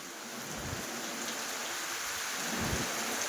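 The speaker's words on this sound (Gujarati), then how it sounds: "ધોધમાર વરસાદ ચાલુ થઈ ગયો છે." A heavy downpour pours down in a dense, steady roar of rain, with faint low rumbles rising briefly, and no voices over it.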